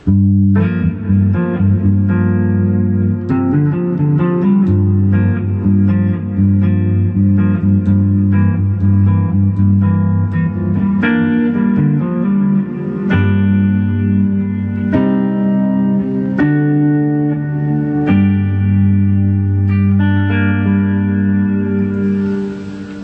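Electric guitar played through a Fender Deluxe Reverb reissue tube amp with spring reverb, ringing chords and single notes with a warm, slightly echoing tone, steady and fairly loud.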